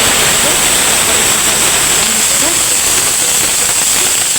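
Cumin seeds dropped straight into hot oil give a loud, dense, unbroken hiss and crackle, close up and steady for the whole few seconds.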